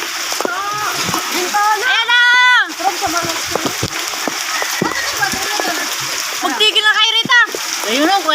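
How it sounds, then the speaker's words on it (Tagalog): A child swimming in floodwater sends up repeated splashes and sloshes, loud and close, while several people talk and shout excitedly over and between them. "Lalangoy na si Ali, oh."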